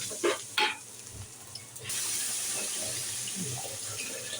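After a few brief clatters, water begins pouring steadily into a pot of fried rice, a continuous rushing hiss that holds at moderate loudness to the end.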